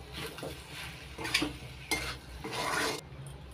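A spoon stirs roasted sesame seeds into soya chilli in a pan, with several scraping strokes against the metal over a soft sizzle, close and fairly quiet.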